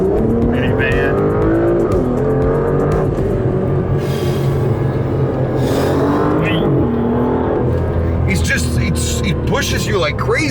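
An Aston Martin sports car accelerates hard, its engine roaring loud and close with a dense, rising tone throughout, while voices talk over it.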